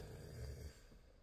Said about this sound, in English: Oh, you're like really snoring.